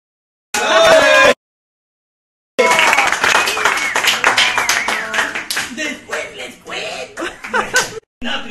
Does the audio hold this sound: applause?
yes